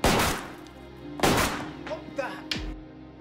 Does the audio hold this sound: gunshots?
yes